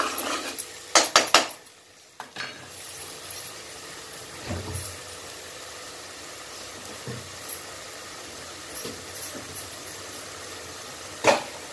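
Curry leaves frying in plenty of oil in a pan: a few loud metallic spatula clanks and scrapes at the start, then a soft ongoing sizzle with occasional stirring knocks and one sharp clink near the end, no speech.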